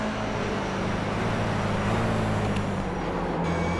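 A racing car in the sim game iRacing roars down a long straight, its loud, steady engine drone holding a sustained pitch with a slight shift as another car closes in to overtake.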